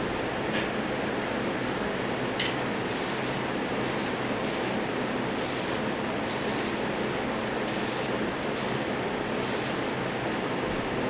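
Short bursts of red spray paint hiss onto a Johnny Lightning 1969 Pontiac GTO Judge model car as a light tack coat, about eight brief puffs over a steady background hiss.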